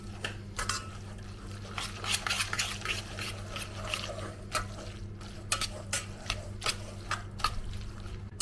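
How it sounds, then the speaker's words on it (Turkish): Pasta being stirred into its sauce in a pot, with repeated clinks and scrapes of a utensil against the pan and soft wet stirring sounds over a steady low kitchen hum. "Makarnamı da güzelce karıştırdım arkadaşlar."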